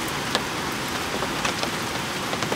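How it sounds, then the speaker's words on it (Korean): Steady rain falling at a valley campsite during a rainy car-camping trip, a dense even hiss with scattered sharper drop taps, close and continuous with no talk. "빗소리가 되게 좋네요."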